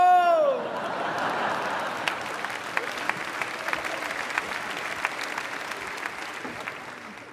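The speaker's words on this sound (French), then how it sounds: "Vous applaudissez ça?" Applause from a stand-up comedy audience, dense clapping that swells after a brief voice at the start and then holds steady for several seconds.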